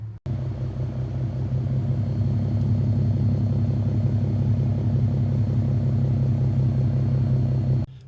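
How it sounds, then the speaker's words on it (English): An Infiniti Q50 idles steadily with its new exhaust tips, a deep, even low rumble holding constant and close for about eight seconds with no talking. "Just a little idle clip for you."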